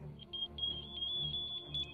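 Submarine active sonar pings heard through the hull, a series of faint high tones that shift pitch over a low rumbling background, with no voices.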